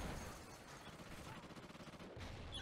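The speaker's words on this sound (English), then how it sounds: "someone shooting back there, I can maybe try and take him out again" Rapid bursts of automatic gunfire from Call of Duty Ghosts gameplay in Kill Confirmed mode, a dense rattling fusillade that fires continuously with a brief pause near the end.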